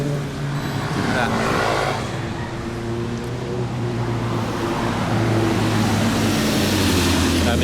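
Heavy road traffic with many motorcycles on a ride, a steady dense engine drone and passing rumble filling the whole stretch, with faint voices now and then.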